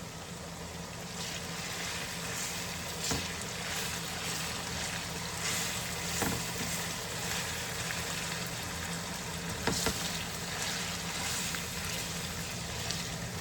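Ground beef frying in a pan for a cheeseburger pie, a steady broadband sizzle that runs throughout at moderate level, with a few faint clicks and scrapes and no speech.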